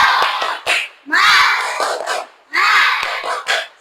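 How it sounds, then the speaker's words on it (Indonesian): A class of children performs a rhythmic spirit clapping chant, with bursts of loud group shouting and claps in repeated phrases separated by short pauses. "kita tepuk semangat terlebih dahulu"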